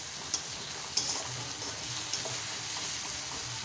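A spice paste of ground whole cumin fries in a pan for a tangra fish curry, a close continuous sizzle with a few sharp clicks of the spoon stirring against the pan, no voices.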